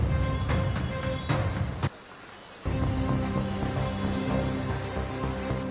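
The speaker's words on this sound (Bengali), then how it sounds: "দফায় দফায় বৃষ্টি হয়েই চলেছে" Steady rain falling over Kolkata under dark storm clouds, a dense continuous hiss with a few sharper drop hits, briefly dropping away for under a second before the downpour resumes at full strength.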